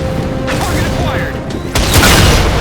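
Railgun in Halo 4 firing at Covenant Phantom dropships: a sudden loud boom and crackling blast breaks through a dense layer of battle noise and mechanical hum, swelling near the end of the short stretch.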